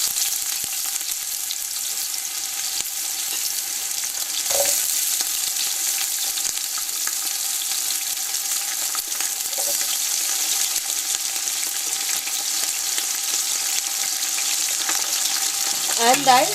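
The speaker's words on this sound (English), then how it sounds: "and I saute it." Sliced onion and whole masala spices for an Indian meat curry sauté in a pan, giving a steady, loud broadband sizzle throughout with a faint stir or clink near the end and no talk.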